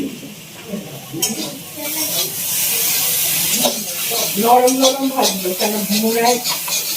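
Okra frying in a pan gives a steady hiss and sizzle with occasional stirring, while a person talks over it in the second half.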